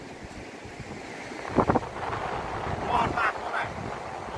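Sea waves washing onto a beach near a church in Hai Hau, with steady broadband surf and wind noise throughout and people talking over it.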